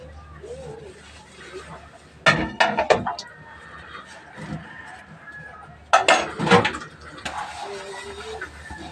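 Plates and dishes clatter in a home kitchen while beef adobo simmers, in two short bursts of clinking and knocking over a quiet background.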